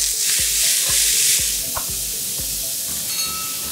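Onion and bell pepper fry in a pan for shakshuka, giving a bright continuous sizzle broken by regular clicking knocks of a utensil stirring, close and fairly loud, with no voices.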